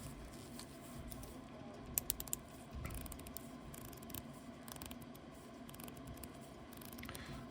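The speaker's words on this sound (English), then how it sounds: "Strong clicky clicks all the way around." A Seiko watch bezel is turned by hand, its ratchet giving a quiet string of small, crisp clicks with a few sharper ticks, close by and faint against low background hiss.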